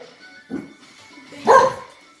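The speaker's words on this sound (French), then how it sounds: "C'est mon chien, il a flippé." A dog gives two short, sharp barks, the second louder, heard fairly close in a quiet room.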